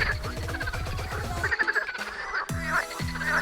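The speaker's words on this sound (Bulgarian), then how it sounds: "Мале, тук само жаби да искаш." Frogs croaking at the edge of the Maritsa river, loud rapid trains of croaks close by, a few separate bursts overlapping one another.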